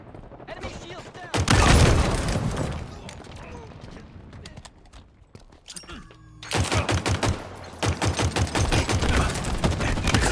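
Bursts of automatic gunfire in Halo Infinite multiplayer capture-the-flag on the Bazaar map, loud close volleys broken by a quieter stretch of scattered shots, with game voice announcements mixed in.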